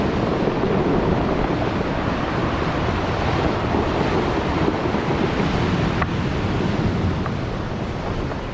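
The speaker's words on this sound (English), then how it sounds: "It is just so windy here today." Strong wind buffets the microphone on a forested indigenous coastline at Storms River, a South African national park, with ocean surf rumbling steadily underneath, a dense continuous roar with no pauses.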